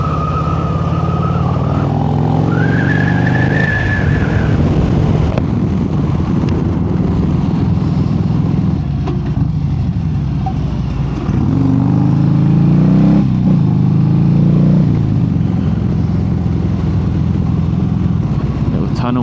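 Inside a tunnel, a motorcycle's engine rumbles and rises in a few throttle blips that echo loudly around the rider, mixed with passing traffic noise.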